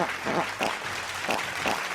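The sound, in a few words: applause sound effect played back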